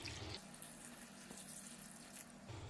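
Room-temperature water pours into a bowl of cauliflower florets for a gobi fry, a soft, steady trickling stream with no voices.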